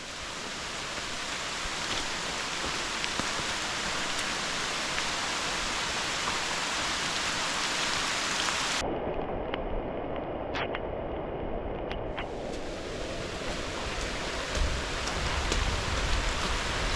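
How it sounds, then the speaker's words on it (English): Steady rain pours during a hike in a rainstorm, a dense continuous hiss that stays loud and unbroken, with a brief dip in the highest tones partway through. "The rain has started"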